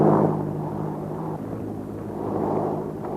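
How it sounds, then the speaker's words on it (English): Propeller airplane engine from a 1935 film as the plane takes off, a loud steady droning roar that swells and eases, heard alone without voices. "Start your motor and take off at once. Somebody's stealing the plane."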